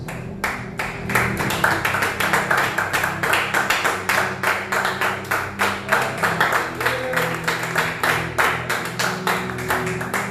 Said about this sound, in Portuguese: vamos dar mais uma salva de palmas para Jesus.